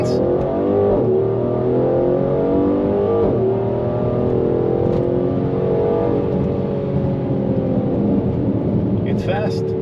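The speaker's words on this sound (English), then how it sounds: "We'll give it gas, 0 to 60, full throttle," Mercedes GLC 43 AMG engine accelerating hard at full throttle from a standstill, a loud, steady, rising roar that climbs through the gears with the pitch sweeping upward, close and continuous throughout.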